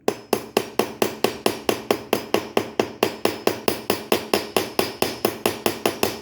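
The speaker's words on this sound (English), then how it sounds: "peen the rivet over nice and good" A hammer peens over a rivet with fast, even, sharp metallic blows, close and loud, about four to five strikes per second throughout, with no talking.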